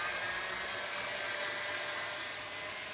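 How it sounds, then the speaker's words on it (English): Egg whites with cream of tartar being whisked into meringue by an electric mixer, a continuous loud, close whirring drone with a steady high buzz and no talk. "and then whisk this up"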